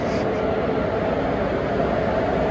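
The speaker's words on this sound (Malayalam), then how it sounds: "പോകാനുള്ള ട്രെയിനിന്റെ ലോക്കോമോട്ടീവ് ഇതാണ്, WAP1." A WAP1 electric locomotive idles at Kottayam railway station, powered on before departure, giving a steady, loud, unbroken rumbling hum with blower noise and no talk.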